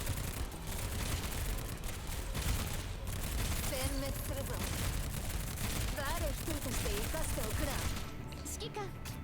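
Heavy automatic gunfire in the Girls' Frontline mobile game, a steady dense barrage of bullets that runs throughout, mixed with battle effects, chirpy tones and voices talking over it.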